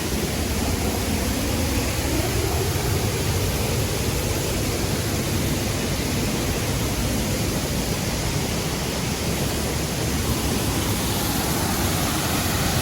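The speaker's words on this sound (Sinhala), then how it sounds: "දේර ඇල්ල පල්ලෙහෙන් වැටෙන විදිය බලමු" Dera Ella waterfall in Riverston, Sri Lanka, pours down as a dense, constant roar of falling water, loud and unbroken throughout with no voices.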